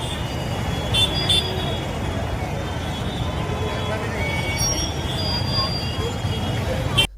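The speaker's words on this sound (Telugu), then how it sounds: "మెయిన్ రోడ్డు మీదనే వచ్చిపోయే బండ్లు ఆగిపోయి ట్రాఫిక్ జామ్ అయిందంటే" Vehicles sit jammed on a busy main road, a dense continuous traffic roar with scattered horn toots and engine hum, people's voices mixed in the background.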